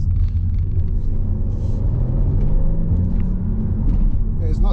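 A 2021 Volvo V60 in high-performance dynamic mode, its engine note rising smoothly from inside the cabin over a constant low road rumble.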